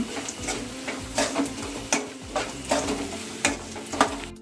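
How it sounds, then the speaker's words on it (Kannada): Vermicelli (shavige) being stirred and fried in a pan with a little coriander for upma, a steady sizzle under repeated scraping strokes of a spatula against the pan, close and moderately loud, with no talking. "ಜಾಸ್ತಿ ಏನು ಫ್ರೈ ಬೇಕಾಗಿಲ್ಲ, 1 ನಿಮಿಷ ಸಾಕು."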